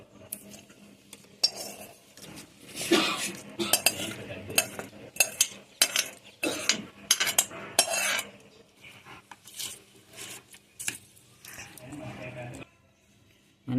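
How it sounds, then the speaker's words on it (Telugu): A spoon scrapes and clinks against a bowl as hot tempering is mixed into rose apple pickle, giving irregular close clatters and stirring knocks. "ఇప్పుడు పోపు వేసి కలుపుకుందాం."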